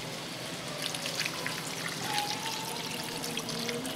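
Hot water pours over chicken and potatoes in a pot for curry, a soft steady splashing trickle running throughout, fairly quiet and close, without talk.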